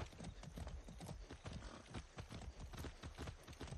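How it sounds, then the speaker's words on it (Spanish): Horse hooves clip-clopping at a steady walking rhythm in the open-world video game Far Cry 6, close and fairly loud, with a brief neigh mixed in. "Va un poco que se para con cualquier tontería el caballo."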